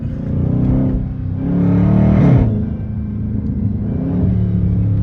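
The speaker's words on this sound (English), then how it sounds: "It sound like a Hellcat." A Hellcat engine swapped into a Dodge 392 Scat Pack revs hard, the roar swelling to a peak and easing back into a loud, throaty rumble.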